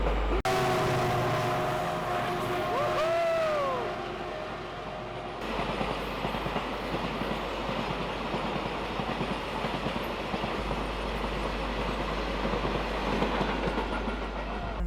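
A train at a railway station: tonal horn-like calls ring out first, then a heavy, continuous rolling rumble with clattering wheels fills the rest, loud and close.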